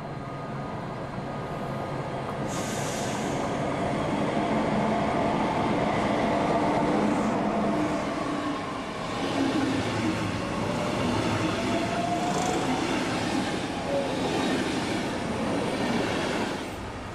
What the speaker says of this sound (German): Früher hielten hier auch Fernzüge. Heute geht es ohne Halt durch.